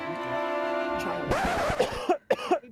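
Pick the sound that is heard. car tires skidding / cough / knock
cough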